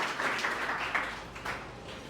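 A small group wraps up a discussion on climate change with brief, fairly quiet clapping, with a few distinct hand claps standing out over a soft, close-sounding patter.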